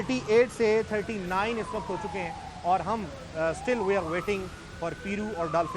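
An ambulance siren wails slowly up and down in the street, a long rising and falling tone heard at moderate distance beneath continuous talk from a reporter.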